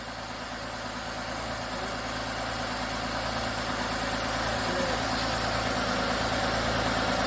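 Porsche engine fitted with Weber 40 IDTP carburetors runs at a steady idle, a continuous close engine rumble with even vibration and no speech over it.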